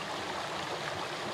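A small waterfall in an autumn river pours with a steady, close, broadband rush of splashing water that stays even and unbroken throughout, with no voices.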